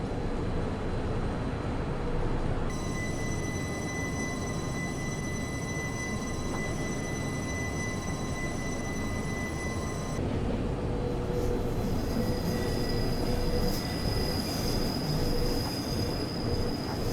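Train running on rails in a train simulator video game: a steady loud roll of wheels with sustained high squealing tones and occasional clatter, continuous and close throughout, with no voice.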